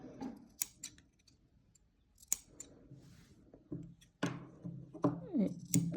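Scissors snipping small cuts into fabric for a back-neck piece, a series of crisp, close clicks spaced unevenly, quieter at first and then quicker and denser toward the end, with no voice over them.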